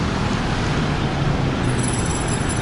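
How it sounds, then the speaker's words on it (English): Dense city traffic in Taiwan forms a continuous, even roar of road vehicles, steady and loud throughout with no talk. "The traffic noise underlies everything."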